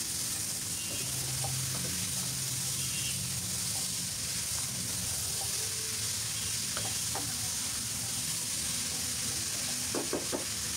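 Mixed vegetables fry in hot oil for a vegetable curry, giving a constant close sizzle and hiss with occasional scrapes and taps of stirring and no voices.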